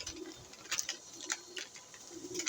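Pigeons eating Wingmaster flyer mix coo softly in short repeated bursts, faint and close, with light ticking pecks among them and no talk.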